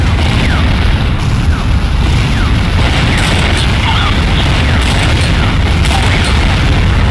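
Continuous heavy rumbling explosions fill the scene as a GDI infantry barracks is destroyed in a Command & Conquer-style real-time strategy game, loud and dense throughout with scattered sharper crackles layered over the roar.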